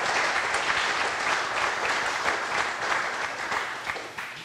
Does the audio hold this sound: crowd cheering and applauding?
yes